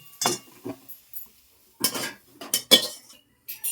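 Metal utensils clink and scrape against a pan as fried brinjal is lifted out for begun paturi. The sounds come as a few sharp, close, separate knocks with quiet gaps between them.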